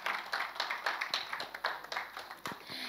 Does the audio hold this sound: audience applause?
yes